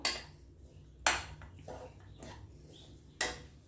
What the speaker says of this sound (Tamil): இது கூட சேர்த்து இன்னும் கொஞ்சம் நெய் ஆட் பண்ணிக்கலாம் நல்லா கலந்து விட்டுக்கலாம் எல்லாத்தையும்